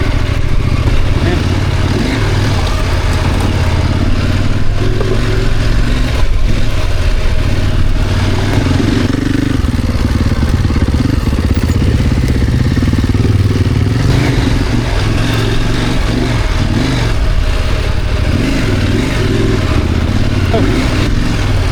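A KTM 890 Adventure R motorcycle rides a sand trail on single track, its engine loud and close with constant rumble, rising and falling revs and rattling clatter throughout, while a rider's voice talks over it at times.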